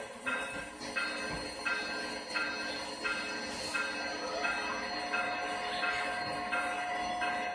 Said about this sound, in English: All the sounds are recorded by the engineers at Soundtracks from the Sacramento test track where they test the real locomotives.